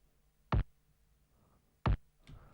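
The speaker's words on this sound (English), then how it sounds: "And the 5th snare track is an EDM snare that is pitched quite low." A low-pitched EDM snare drum sample hits twice, each a short, punchy broadband crack with a deep body, spaced over a second apart, followed by a softer tail, alone without talk.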